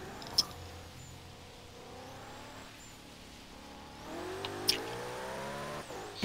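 A car engine drones steadily with low hum and faint clicks, rising toward the end, in the Forza Horizon 3 racing game.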